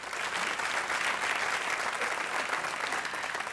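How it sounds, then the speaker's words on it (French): Steady, dense applause from a large audience at a French-language film awards ceremony, the Trophées Francophones du Cinéma, holding loud and even throughout with no speech over it. "Nous allons encore l'applaudir, s'il vous plaît."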